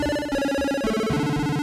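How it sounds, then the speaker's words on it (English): A square wave on the Audiothing miniBIT 8-bit synth, sequenced in rapid 1/32 notes that alternate with the octave above, giving a bright, buzzy, trilling chiptune tone whose pitch steps down partway through; steady, loud and alone. "You take a square wave, go into the sequencer and set it also to 1/32nd of a note and alternate every note to be pitched to 1 octave above."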